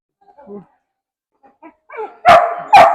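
After a few quiet whines, a dog lets out two loud, sharp barks close by, spaced about half a second apart.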